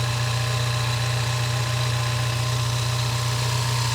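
A 4-cylinder turbocharged car engine idling at a salvage auction yard, giving a steady, loud, unbroken low hum with constant vibration throughout and no voices.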